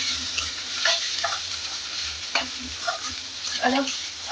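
Boiled chowmein noodles with egg bhujia and sauce being stir-fried for breakfast, a steady close frying hiss broken by a few sharp scraping and tossing strokes of the spatula, no talk.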